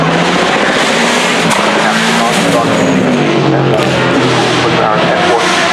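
Race and rally cars at the Goodwood Festival of Speed hill, engines roaring loud and continuous with tyre noise and a passing drone, while a person talks over it.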